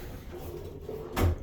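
Bathroom drawer in a cruise ship suite slides and bumps shut near the end, one short thud after a stretch of quiet room tone.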